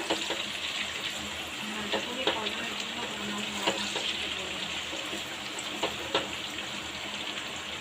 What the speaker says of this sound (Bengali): একদম ভালো করে ভাজতে হবে আলু পেঁয়াজ একসাথে